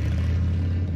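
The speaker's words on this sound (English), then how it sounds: "This is the sound of a popular American motorcycle." Popular American motorcycle engine idling and revving in a low, steady rumble, loud and close for a brief moment with no voices.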